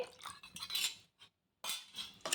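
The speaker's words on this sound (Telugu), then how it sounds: "ఇలా మొత్తం కలిసేలాగా కలిపేసుకోవాలి" Metal spoon scraping and clinking against a bowl of wheat rava batter in quick bursts, a brief pause, then more stirring strokes, close up.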